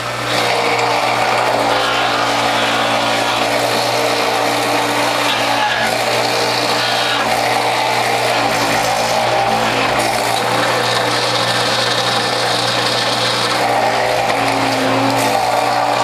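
A WHF juicer grinds kohlrabi roots with a loud, constant whirring motor drone that holds steady throughout, with no pauses or talk.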